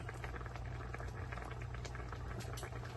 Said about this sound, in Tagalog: Ayun, kumukulo na, mga friends.